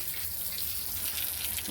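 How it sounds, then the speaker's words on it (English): Hot water running steadily from a household tap, a continuous hissing gush that stays even and fairly close with no voices over it. "Got hot water coming out now."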